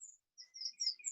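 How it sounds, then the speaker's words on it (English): A small bird sings alone in a quiet setting, a few short high chirps and whistled notes in quick phrases, clear and close with brief gaps between them. "Can you hear that little bird singing?"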